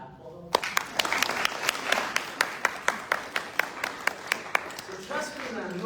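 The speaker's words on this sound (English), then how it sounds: "Can we clap for them?" An audience at a mindfulness lecture at the University of British Columbia bursts into applause, a few loud claps standing out in a steady rhythm over the crowd clapping, and a voice speaks near the end.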